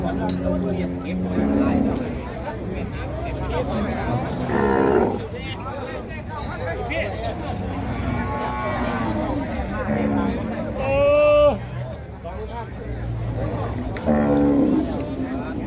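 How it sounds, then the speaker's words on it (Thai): Cattle at a Thai livestock market low and moo repeatedly, several loud, drawn-out calls spaced through the scene, mixed with steady crowd noise and nearby talking. "วัวใหญ่"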